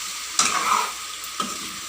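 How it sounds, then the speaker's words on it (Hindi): Pasta being stirred with vegetables in a pan for a red veggie pasta, two distinct scraping strokes cutting through a steady close sizzle of frying, with no voices. "हम इसको स्टर करेंगे अच्छी तरीके से. पास्ता इन सारे वेजिस में मिल रहा है"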